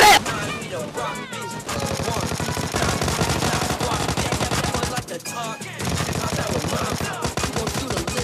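Rapid bursts of automatic gunfire in PUBG Mobile Lite, loud and close with short gaps between bursts, while a voice talks over them.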